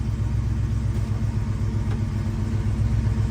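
A 1966 Chevrolet Chevelle SS idling, a steady low rumbling engine with an even lopey throb, close and continuous with no revving.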